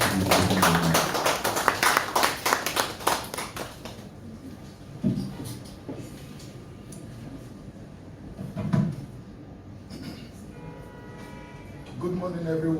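Audience applause for a keynote speaker at an event, a dense burst of clapping for the first few seconds that fades, followed by scattered claps and room noise with brief returns of clapping near the end.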